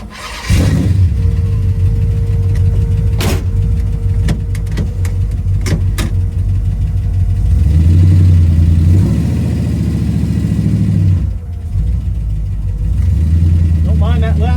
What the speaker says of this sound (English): we're gonna make an attempt to drive 8 miles to the gas station